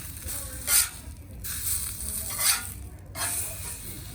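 Crispy-skinned sockeye salmon sizzling on a hot griddle, a steady soft hiss broken by several brief louder spitting bursts, with no talking.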